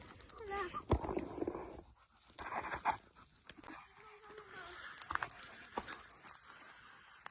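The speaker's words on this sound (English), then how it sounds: "Ah, dog." A dog pants on a countryside walk near a Spanish town, rapid breathy rhythm close by, mixed with rustling, footsteps and a brief whimper.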